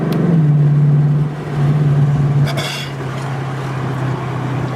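A 2016 Ford Mustang GT V8 fitted with a PMAS Velocity 120mm cold air intake drones steadily on the freeway, a loud, sustained low engine note that dips briefly and returns, with road and wind noise throughout.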